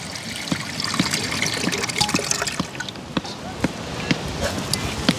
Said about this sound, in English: When people get the coconut water strained.